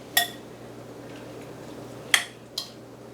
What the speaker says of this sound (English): I'm going to spoon some of that on here